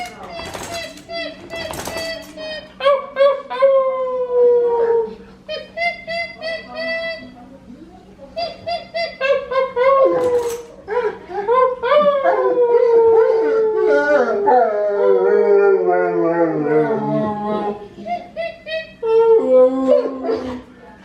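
A dog howls long and loud, as if mourning, in drawn-out rising and falling wails that repeat over about twenty seconds, nearby and dominating the scene.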